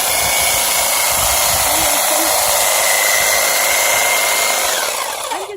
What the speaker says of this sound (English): Trimming off all this old dead stuff.